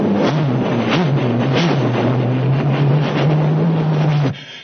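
A steady low engine drone for a car ride in a comic stage skit, holding at an even pitch for about four seconds before cutting off abruptly.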